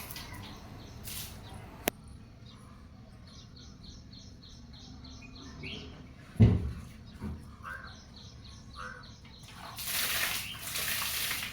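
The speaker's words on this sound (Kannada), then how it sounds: "ನೋಡಿ ಈಗ ಬಾಗಿಲಿಗೆಲ್ಲ ನೀರು ಹಾಕ್ತಾ ಇದ್ದೀನಿ" Water is poured and swept across a house doorway to clear mud washed in by rain. Birds chirp steadily in the background, and a louder rush of splashing water builds near the end.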